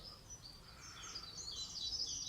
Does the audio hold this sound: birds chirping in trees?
yes